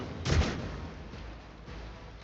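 A burst of pistol fire in the video game Warhammer 40k: Rogue Trader, one sharp loud report followed by a couple of fainter shots that fade into a low, muffled game background.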